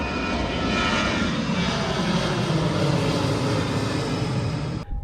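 A fixed-wing airplane roars loudly and steadily at the end of an airport runway near the Bay of Kotor, its engine noise filling the whole stretch before cutting off abruptly at the end.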